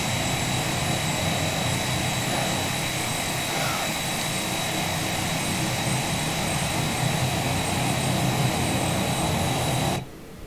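A Phenom 300 business jet in the X-Plane 11 flight simulator gives a loud, continuous engine roar with a steady high whine. The sound holds unchanged for about ten seconds, then drops off abruptly.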